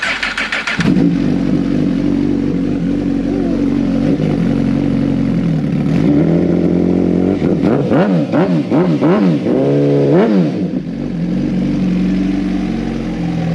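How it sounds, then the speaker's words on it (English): A BMW S1000RR sport motorcycle with a Brock's Performance exhaust starts up and idles loudly, then is blipped through several sharp, rising revs with a deep, throaty exhaust. "The Brock's Performance exhaust system. We're gonna fire it up, let you see what this thing sounds like."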